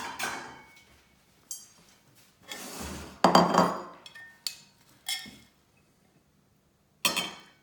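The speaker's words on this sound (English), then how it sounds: "I have to get a bowl for my salad" Kitchen bowls and dishes clink and clatter in a few sharp bursts as a bowl is taken out for a raw sweet potato salad, with quiet gaps between knocks and no talking.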